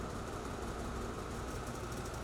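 A Polaris INDY Adventure 137 snowmobile engine idles steadily nearby, a continuous low rumble with faint mechanical knock and no voices.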